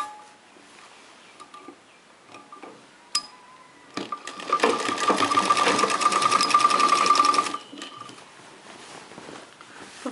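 A sewing machine stitches cloth during a beginners' tailoring class, starting with a few faint clicks and taps, then running in a loud, even whirring burst for about three seconds before stopping.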